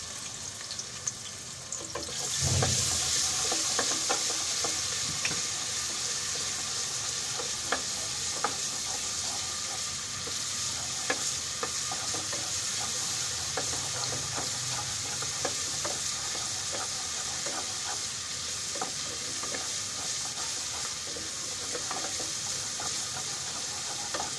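Steady sizzling of ginger garlic paste frying in a hot pan, with occasional stirring scrapes and clicks, continuous and fairly close throughout.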